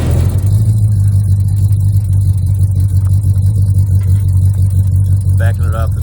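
A 1969 Plymouth GTX engine rumbles with a deep, steady idle while the car is backed off a trailer, loud and close the whole time, with a brief voice near the end.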